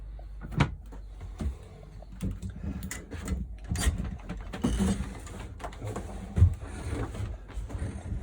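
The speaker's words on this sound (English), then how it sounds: "there's a little grey lever here, you slide to one side, drops it into cassette below and close it back up" A grey toilet cassette lever in an Affinity 550 motorhome bathroom is slid open and shut, giving several close plastic clicks and sliding knocks with small mechanical clunks, no speech.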